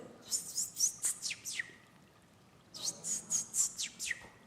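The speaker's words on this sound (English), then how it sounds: "that is a beautiful yellow warbler" Two bursts of a yellow warbler's high, sweet warbling song, each a quick run of bright notes ending in a lower slur, with a pause between.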